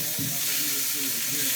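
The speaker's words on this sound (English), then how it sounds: "this has been having a good sizzle away over here" Bacon and eggs frying in a pan give a steady, close, crackling sizzle that holds at an even level throughout.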